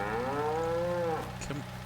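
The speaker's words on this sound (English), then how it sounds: "These cattle just will not cooperate." A single drawn-out cow moo, loud and close, holding a steady tone for over a second before trailing off, with a low rumble and faint farmyard noise beneath.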